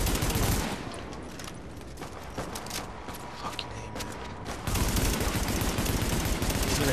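M16 rifle fire in The Division video game, dense rapid bursts of loud shots crackling almost without pause and swelling heavier near the end.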